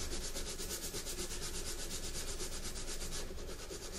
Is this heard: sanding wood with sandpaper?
yes